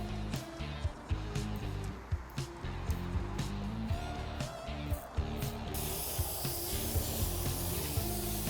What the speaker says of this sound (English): we're gonna spray it with our K&N Air Filter Cleaner